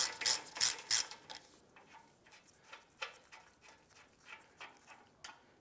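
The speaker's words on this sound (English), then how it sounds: "Use our 18 millimeter socket and our ratchet." An 18 mm socket on a ratchet works a caliper bolt loose on a 2015-2020 Cadillac Escalade, opening with a few loud rapid clicks and trailing into softer, scattered ticks close by.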